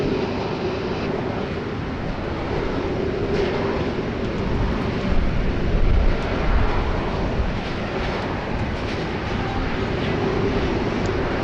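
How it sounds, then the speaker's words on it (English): A Jetstar Airbus A320 touches down on the runway at Sydney Airport, its broad, steady engine roar and rush sustained at a distance throughout, with a slight swell midway. "Another beautiful touchdown there from a Jetstar 320."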